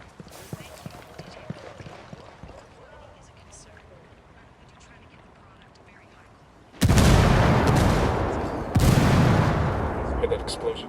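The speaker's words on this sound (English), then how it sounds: "Heard that explosion?" A boat explodes in Ghost Recon Wildlands, two loud heavy blasts landing in quick succession after a quieter stretch of ambient rumble, each followed by a roaring, slowly fading tail.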